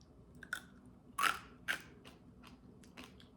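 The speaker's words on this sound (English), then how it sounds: "There's your crunch." A keto one-ingredient chip is bitten and crunched close to the ear in a few crisp, brittle snaps followed by softer chewing crackles.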